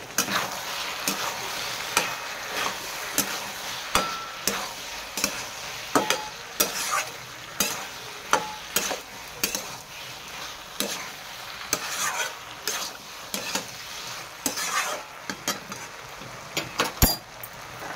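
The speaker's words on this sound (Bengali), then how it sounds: "হলুদ গুঁড়ো দেবো। নেড়ে চেড়ে নেবো।" Okra fries with sugar and turmeric powder in a pan, a soft background sizzle punctuated by rhythmic, close scraping strokes as it is stirred.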